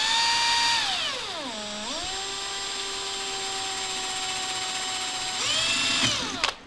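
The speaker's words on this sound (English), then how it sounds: "after I drill this hole," A power drill whines steadily as it bores a hole in a kayak trolling motor mount, its pitch dipping and recovering as the bit bites, then rising again before stopping.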